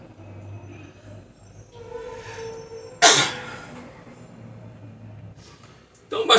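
A single sharp sneeze bursts out over a low rumbling background, with quieter room noise before and after.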